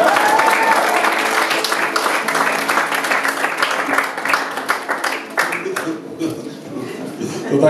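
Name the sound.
audience applause at a blues concert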